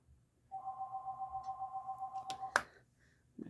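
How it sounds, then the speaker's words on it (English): An electronic telephone ring sounds as a steady warbling, pulsing tone for about two seconds, ending with a sharp click, in a quiet room during a card-making craft session. "I apologize for the phone."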